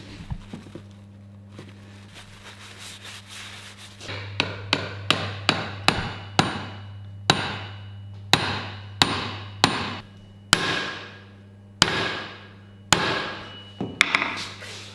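A hammer drives a Viking battle axe head onto a wooden handle: after a few seconds of low hum, a series of sharp, close metallic blows ring out, first in quick succession and then spaced about a second apart, each decaying briefly.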